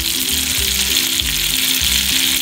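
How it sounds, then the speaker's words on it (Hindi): Butter melting in a hot pan while a veg seekh kabab roll is made, a loud, steady sizzle and frying hiss with a low rhythmic bubbling underneath and no talking. "तो फिलहाल हम बटर को मेल्ट करेंगे"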